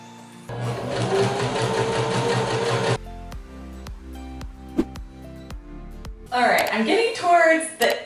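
A home sewing machine runs in a steady whirring burst as it stitches fabric for a McCall's pattern garment, then stops for faint clicks and handling before a second short run; no voice is heard.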